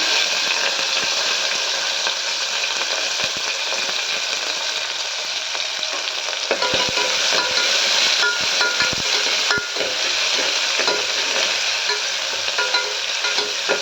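Chopped onion and curry leaves frying in hot oil with popped mustard seeds and urad dal: a steady, loud, close sizzle throughout, broken by faint stirring scrapes.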